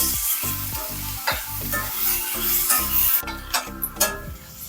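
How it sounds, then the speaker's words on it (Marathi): A generous amount of onion sautés in a pan for a monsoon wild-vegetable dish, sizzling loudly and continuously while a spatula scrapes and stirs in regular strokes, with a few sharper clicks near the end. "या भाजीला कांदा आपल्याला बराच लागतो आणि घालून घेतला आता परतून घेऊया आपण"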